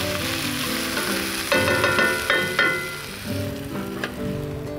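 Chopped onion and sun-dried tomatoes sizzle steadily in a hot pan, a loud, continuous frying hiss with a few stirring scrapes mixed in.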